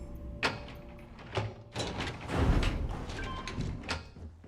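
Sci-fi cargo bay doors sliding open aboard a ship in Starfield, with several close mechanical whooshes and clunks in short bursts over a low hum.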